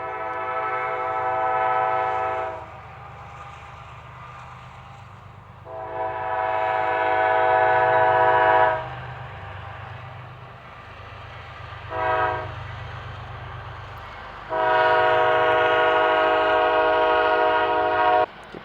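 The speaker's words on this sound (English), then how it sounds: "There's the train." A CSX Railroad train sounds its horn in several long blasts while passing near a crossing, with a low rumble of the moving cars continuing between the blasts.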